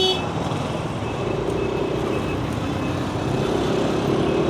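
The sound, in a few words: street traffic in Ho Chi Minh City, Vietnam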